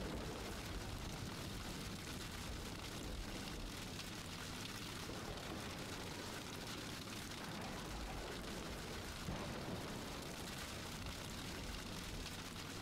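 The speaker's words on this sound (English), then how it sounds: "Now we got two cells, bunch of rain." Continuous heavy video-game rain roars evenly throughout, a dense wash of noise with a low rumble underneath and no talking.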